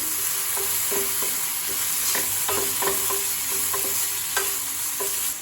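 Chopped onions and half a tomato sautéing in a pan with turmeric and chilli powder for egg dosa: a steady loud sizzle broken by repeated scraping strokes of a spoon stirring.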